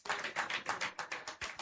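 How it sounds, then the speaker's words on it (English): Audience applause at an International Women's Day event, a steady burst of clapping from many hands, close and fairly loud, with no voices over it. "Another round of applause for him."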